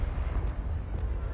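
A Confringo spell blast in Hogwarts Legacy, a deep rumbling eruption with heavy low-end roar and crackle that stays loud and dense through the whole short burst, with no talking.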